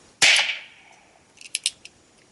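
A Ruger Wrangler revolver fires a single 40 grain Mini Mag round: one sharp, close, loud crack with a short ringing decay, followed by a few faint, quick ticks.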